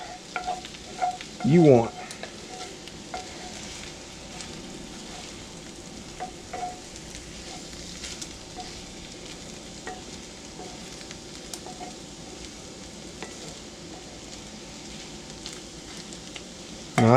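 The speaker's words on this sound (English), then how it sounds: "And you just cook them to any desired doneness" Scrambled eggs cooking in a 40-year-old cast iron pan, heard as a low, steady sizzle with soft scraping and stirring knocks, a brief voice speaking near the start.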